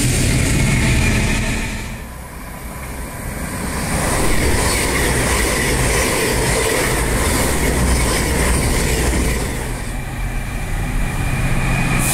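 A train on the Leek and Rudyard narrow gauge railway rumbles past close by, its steady clatter of wheels on track swelling and fading, with some squealing, and no voices.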